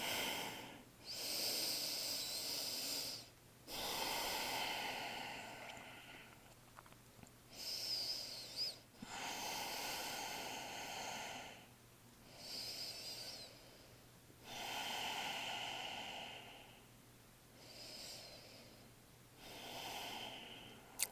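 Slow, steady breathing during a yoga forward fold in a Zoom class: long, soft, hissy inhales and exhales repeat in an even rhythm, faint and close, with a low steady hum beneath and no talking.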